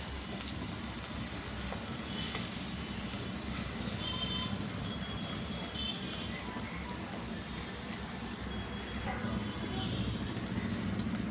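Onions and tomatoes sautéing in a pan for a prawn curry give a steady, even sizzle and crackle that runs throughout with no pauses, close and moderately loud.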